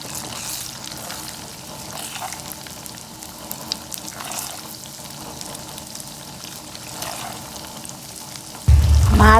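Prawn masala fries in oil in a pan, making a continuous low sizzle with light stirring; near the end a much louder, sudden burst of sound breaks in.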